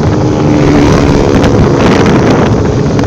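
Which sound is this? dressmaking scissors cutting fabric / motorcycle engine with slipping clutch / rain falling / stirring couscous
motorcycle engine with slipping clutch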